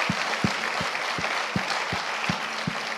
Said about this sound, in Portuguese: Queria que a gente desse uma salva de palmas para essas pessoas.